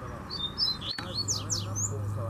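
Double-collared seedeater (coleiro) singing close by in a quick run of bright, varied chirps and slurred whistles, with a steady low hum underneath and a brief click partway through.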